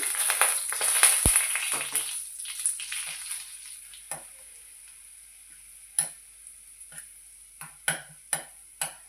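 Garlic chili powder mixed with salt hits hot oil for an okra curry, giving a loud burst of sizzling that quickly dies down, followed by scattered sharp clicks and taps of stirring.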